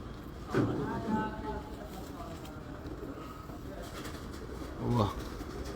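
Pigeons cooing among kept racing pigeons after a flight session, two soft, close coo bursts separated by quiet background noise, with faint talk nearby.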